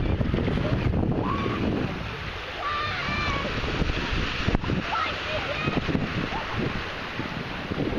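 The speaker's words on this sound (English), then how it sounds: "Nice breeze blowing" Steady wind blowing across a hot sandy beach by a bay, a continuous broadband rush buffeting the microphone, with faint splashes and distant voices underneath.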